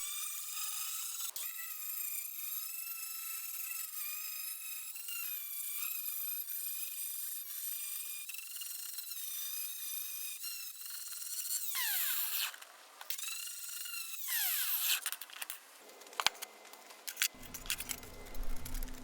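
An angle grinder strips the galvanized coating from a metal rocket stove, a loud continuous high-pitched whine that holds steady for about twelve seconds, then turns ragged with dips, scrapes and pitch changes as the disc works the metal.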